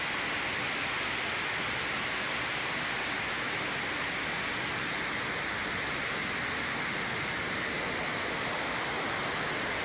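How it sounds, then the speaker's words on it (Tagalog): Floodwater rushes through Lila, Bohol in a steady, loud, broadband roar that holds without pause for the full length, with no voices over it. "Baha ang lila."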